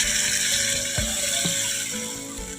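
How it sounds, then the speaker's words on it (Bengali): Water is poured into a pan of fish curry with tomatoes and aubergine, a continuous close splashing and hissing pour that fades slightly over a few seconds. "এবারে জল দিয়ে দিলাম"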